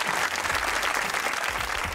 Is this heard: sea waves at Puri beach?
no